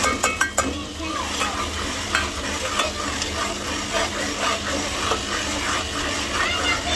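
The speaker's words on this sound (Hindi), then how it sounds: "अब हम टमाटर का पेस्ट डालने लगे हैं" Tomato paste frying in a pan for chickpea curry, a steady loud sizzle with a spoon stirring and scraping close by, a few sharp clinks at the start.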